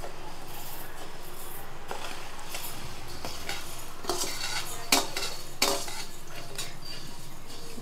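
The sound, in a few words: stirring wheat roasting in a pan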